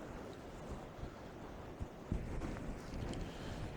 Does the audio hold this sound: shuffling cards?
no